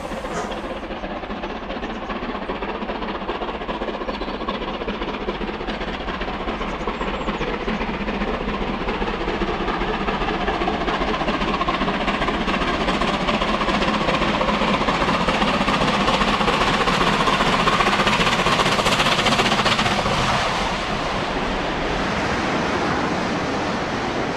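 A West Country class steam locomotive works hard on full regulator and 50 percent cut-off, giving a dense, continuous roar that swells louder for a stretch before easing back, with no talk over it.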